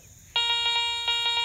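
Metal detector sounding a strong, hot signal over a shallow button while hunting old coins and relics in a paw paw patch, a bright steady electronic tone with pulsing swells that starts abruptly and holds, close and loud.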